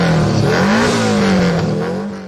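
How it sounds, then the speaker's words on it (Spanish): A V4 car engine revs loudly up and back down, a deep rising and falling growl held close for a couple of seconds with no voices. "Me encanta cómo suenan los V4."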